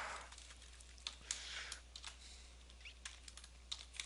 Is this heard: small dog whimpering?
no